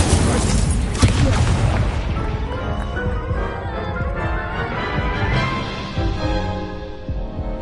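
Fiery spell blasts and crashing impacts from a Hogwarts Legacy duel, a loud booming burst at the start that trails off into continuous rumbling combat noise with scattered thuds.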